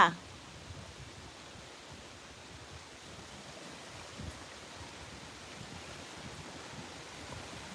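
Water laps and washes against the shore of a freshwater lake in Sweden, a soft continuous surf-like hiss with some wind rumble, steady and fairly faint.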